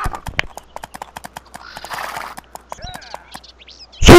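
Horse hooves clip-clop in a steady, fairly close rhythm, with a brief whinny-like sound partway through and a loud burst at the end.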